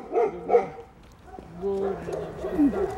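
A dog barks a couple of times nearby, mixed in with adults and someone talking outdoors in Russian.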